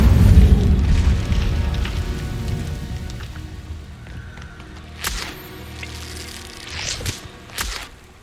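Incendio fire spell cast in Hogwarts Legacy, a loud low whooshing burst that fades into crackling, followed by several sharp cracks and impacts later on, with no talking.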